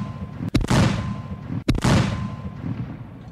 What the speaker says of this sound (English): The Germans spot this attempt and answer with 80mm mortar fire.